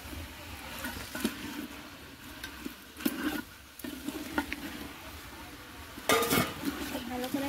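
Greens and vegetables sautéing in a pan, with Malabar spinach and bottle gourd leaves being stirred, make scraping clatters of a utensil against metal at irregular intervals over a soft, low sizzle.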